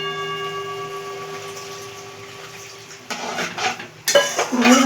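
A utensil scrapes and clatters against a pan while pabda fish curry is stirred, starting after a quiet stretch and turning into busier, louder metallic scraping with light sizzling near the end.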